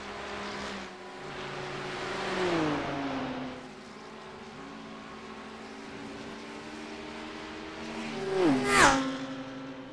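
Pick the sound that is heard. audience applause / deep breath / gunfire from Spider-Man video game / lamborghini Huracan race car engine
lamborghini Huracan race car engine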